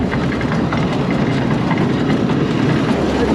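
A Massey Ferguson 82 combine's separator runs steadily nearby, a dense, continuous mechanical rumble with faint rattling and no breaks or voices.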